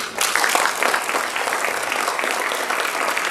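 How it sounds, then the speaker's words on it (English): Awards ceremony audience applauding in a final round, a dense wash of many hands clapping steadily and fairly loud from start to finish. "if we could all just have a final round of applause for all of our Kuykendall"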